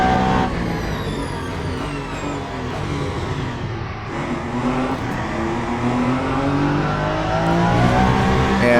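Race car engine in the Le Mans Ultimate sim during the 8 Hours of Bahrain, a loud, steady high-revving roar with rising and falling pitch through gear changes, continuous throughout with no talk.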